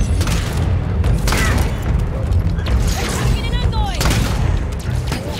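Shotgun blasts in the video game Halo 5: Guardians, several loud close booms spaced a second or so apart amid dense combat noise, with voices speaking over them.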